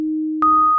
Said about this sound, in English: Like as far as I can tell, it's a sine wave.